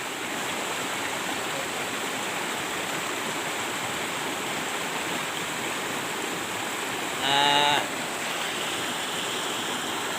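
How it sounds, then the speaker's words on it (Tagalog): A strong mountain stream rushes loudly and steadily throughout, a dense unbroken roar of water, with a brief chirping tone rising over it near the end. "Ang lakas ng tubig guys eh."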